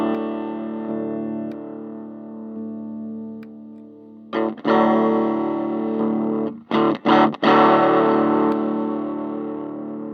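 Electric guitar played through a modded Pignose 7-100 amp with the diode removed, ringing chords with dense harmonic sustain, brief choppy gaps, then louder strummed bursts near the end.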